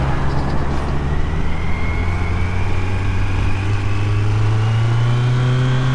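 Inline-four engine of a Kawasaki Z900 naked motorcycle pulls hard under acceleration on the road, a loud steady drone with rising engine harmonics that climb in pitch across the run, with road and wind rush beneath and no talking.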